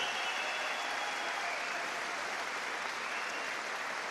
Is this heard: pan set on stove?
no